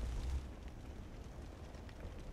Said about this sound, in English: let me shoot a fireball